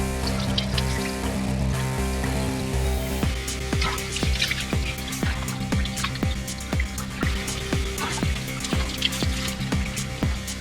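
Water trickles and drips in a small stream on Dolukanda mountain in Sri Lanka, with close, steady splashing patters running throughout under a constant wash of flowing water.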